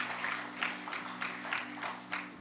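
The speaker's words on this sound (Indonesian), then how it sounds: "kita beri tepuk tangan untuk Tuhan" A church congregation applauds in a steady rhythmic clap with regular beats, a broad, moderately faint wash of hands under a low sustained hum.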